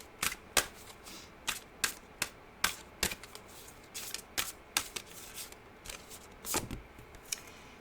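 A deck of Oracle of the Seven Energies cards is shuffled by hand in quick crisp riffles and slaps, a series of sharp papery bursts heard close and alone.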